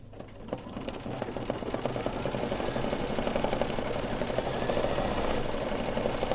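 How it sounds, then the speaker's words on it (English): An embroidery machine stitches out a badge design with a fast, steady mechanical chatter and hum, loud and continuous for over six seconds without any talking. "I'm going to do now the embroidery machine actual design. Stitch it out on this."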